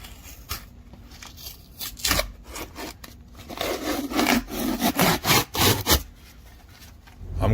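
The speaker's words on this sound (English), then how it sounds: "The patches are cured right now. Let's peel it off." Cured patches are peeled off a boat hull during a bottom refit, making a series of close, rough ripping and scraping rasps that grow busier and louder toward the middle, with no talking.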